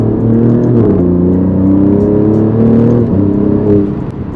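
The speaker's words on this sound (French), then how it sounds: "La sonorité, elle est vraiment pas mal. On sent que c'est un moteur Ferrari." Alfa Romeo Giulia QV with its Ferrari-derived engine in race mode, exhaust valves open, downshifting through gears: a loud, close, throaty growl with rising and falling revs and blips between shifts, no talking.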